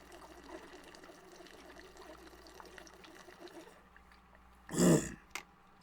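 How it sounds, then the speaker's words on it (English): A single short throat clearing, close and fairly loud, follows a quiet stretch of faint background noise, with a smaller sound just after. "Let me clear my throat."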